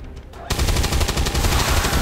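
XCOM 2 gunfire shooting an enemy, a dense rapid burst of automatic shots that starts abruptly and rattles loudly for over a second and a half without letup.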